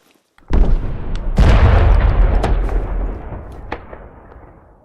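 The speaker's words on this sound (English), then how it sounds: "hear gunfire." Gunfire in the post-apocalyptic video game Fallout 4: a sharp shot followed by a second heavy blast with a long rumbling decay, plus a few fainter distant cracks, loud and without talk.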